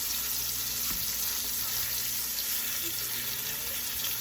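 A T-bone steak sears in a hot pan on a stovetop, giving a steady, close hiss of sizzling fat that carries on without a break for the whole stretch.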